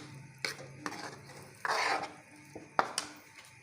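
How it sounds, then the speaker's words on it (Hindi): Green chole keema being stir-fried in a pan with fresh coriander and green chilli, giving scattered scraping and clinking strokes of a spoon against the pan and one brief sizzling swell, close and moderately quiet. "अब इसको भूनेंगी"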